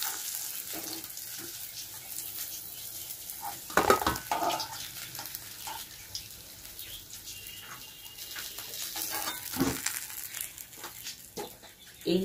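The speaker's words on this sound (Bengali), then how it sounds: "মাছটা আমি ভেজে নিই।" Pieces of katla fish frying in oil in a pan give a continuous close sizzle, broken by louder spatters and stirring clinks at a few points.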